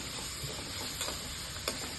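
Onions fry in a pan until lightly browned, giving a steady, close broadband sizzle and hiss with a few soft ticks and clinks of stirring scattered through, no voices present.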